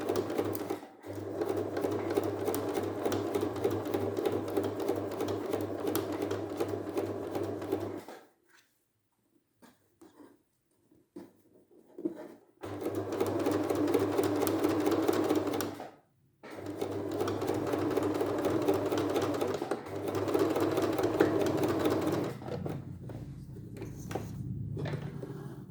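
A home sewing machine stitches a protective anti-fog face mask in two long runs, broken by a quiet gap where the needle stays down for the turn. The whirring motor holds steady and close throughout, with nobody speaking.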